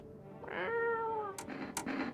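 A video game cat gives one drawn-out, clear meow, close and fairly loud, followed by a couple of short soft chirps, with no talking over it.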